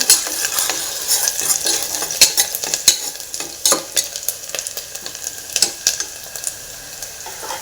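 A spatula stirs and scrapes through potatoes and peas frying in a pan for a pea palya. The clinking scrapes come in irregular bursts over a steady close sizzle, with no talking.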